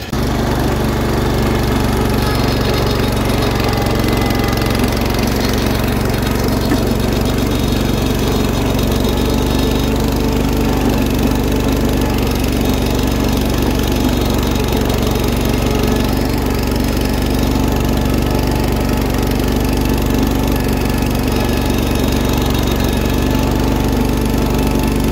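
A 140 lawn tractor towing a Turf Groom 136 grass sweeper through tall grass, its engine a loud, steady, unbroken drone right up close for the whole stretch.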